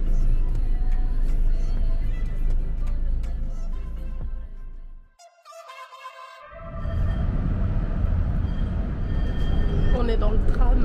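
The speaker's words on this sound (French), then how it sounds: "On est dans le tram." An Athens tram ride into the city centre, with a loud, steady low rumble and rattle from the car. The noise briefly fades to near quiet around the middle, then swells back, while people talk over it.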